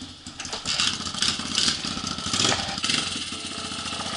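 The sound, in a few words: Honda pit bike engine running in snow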